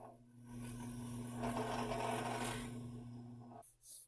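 A drill boring shallow shelf-bracket holes into wooden cabinet sideboards, a close, quiet steady whirring grind lasting a few seconds before it stops abruptly.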